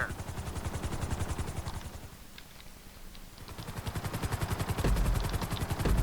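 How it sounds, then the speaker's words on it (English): Rhythmic rotor chopping from a helicopter in a GTA 5 flight school video game, fading briefly midway and then returning stronger and closer with a steady pulsing beat. "you'll be required to safely land your helicopter"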